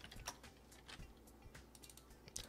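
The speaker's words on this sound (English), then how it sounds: "So let's try typing 6" Soft, close keystrokes on a computer keyboard, typed in a quick irregular run at low volume while writing a batch programming command, with no talking.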